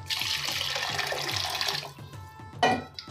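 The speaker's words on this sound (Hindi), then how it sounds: "और डालेंगे करीब 2 कप पानी," Water poured from a vessel into a pan of simmering mushroom and potato curry during home cooking, a steady splashing gush for about two seconds followed by lighter clatter and a brief stir-like splash near the end.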